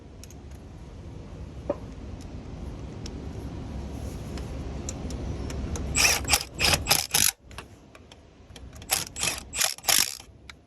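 A ratchet with a swivel socket works on the thermostat housing of a Cummins ISX engine, first as quiet background, then in quick bursts of close, sharp clicking in two clusters.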